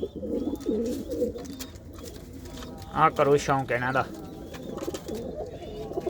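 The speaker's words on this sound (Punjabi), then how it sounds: "ਇਹ ਸਾਰੇ ਕਬੂਤਰ ਜਿਹੜੇ ਤੁਸੀਂ ਦੇਖ ਰਹੇ ਹੋ ਦੇਸੀ" Desi pigeons kept for sale, including golden and red-eyed birds, give a burst of low rolling coos near the middle, close by, with someone talking before and after.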